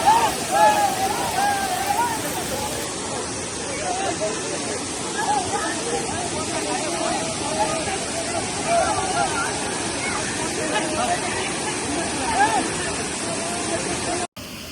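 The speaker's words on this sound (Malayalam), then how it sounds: "കലക്ക് വെള്ളം ഇങ്ങനെ വന്നുകൊണ്ടിരിക്കുന്നുണ്ട്." Muddy floodwater rushes steadily down a rain-swollen stream, a continuous broadband roar close by with sloshing spray, while voices talk faintly over it throughout.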